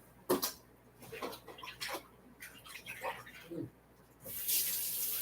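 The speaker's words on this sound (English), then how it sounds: "let me rinse my hands" Hands rinsed under a running kitchen tap, with a steady hiss of water in short bursts and splashes and a stronger gush near the end, close and moderately loud.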